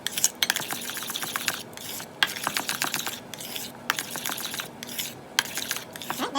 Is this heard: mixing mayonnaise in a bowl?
yes